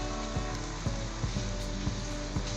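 Cotton soaked in milk, desi salt and turmeric sizzles on a hot griddle, a continuous close frying hiss with small popping crackles at irregular intervals.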